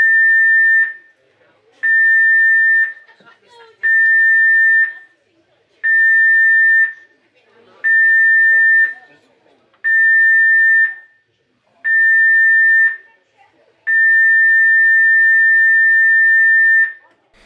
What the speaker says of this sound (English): The general emergency alarm is about to be sounded for guest familiarization purposes only.